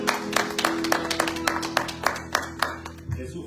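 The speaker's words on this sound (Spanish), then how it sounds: "Denle un aplauso al Señor en esta hora." A church congregation claps in a steady, rhythmic beat, sharp hand claps evenly spaced over a low sustained musical hum, with no talking over them, loosening toward the end.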